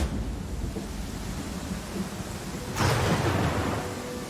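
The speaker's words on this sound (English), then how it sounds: "Lightning!" Thunder with rain in the video game Pathfinder: Kingmaker, a steady rain hiss broken by a sudden loud crack and rumble of thunder late on, with no talk.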